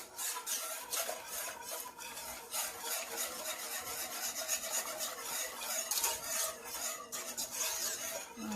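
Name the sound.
whisking coconut curry carrot soup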